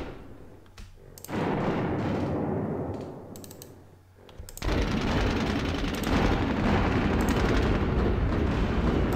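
An anti-tank gun firing in a WWII tactical strategy game, Advance of the Reich, with loud booming blasts and sustained rumbling explosion sounds filling the clip after a brief lull.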